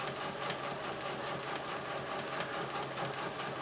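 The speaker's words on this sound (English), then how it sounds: "I'm going to do a quick back tack at the beginning and end of this stitch line" A sewing machine runs in a steady, continuous mechanical whir while stitching a faced sleeve placket line with back tacks, close and even throughout with no speech.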